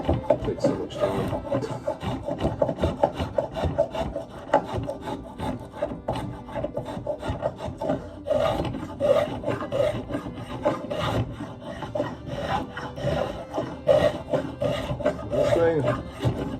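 An old hatchet blade is sharpened with steady, repeated rasping strokes, loud and close, a continuous gritty scraping rhythm with no talking.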